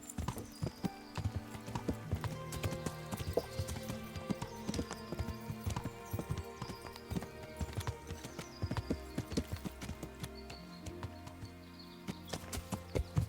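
Horse hooves clip-clopping in the medieval game Kingdom Come: Deliverance, a quiet steady stream of hoof taps over layered game ambience and music, continuing for several seconds with no voices.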